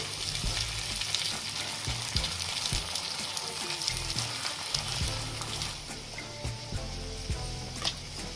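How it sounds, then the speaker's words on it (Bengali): Peas that were washed and drained crackle and sizzle steadily in a pan over medium-low heat, with scraping stir strokes recurring throughout, close and continuous. "মটরগুলো আমি আগে থেকে ধুয়ে পানি ঝরিয়ে নিয়েছি আবারও একটু নেড়ে চেড়ে ভেজে নিচ্ছি"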